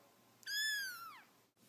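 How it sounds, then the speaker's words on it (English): A cat gives a single clear, drawn-out meow with a falling pitch, close and fairly quiet against a hushed background. "Meow, meow, meow, meow."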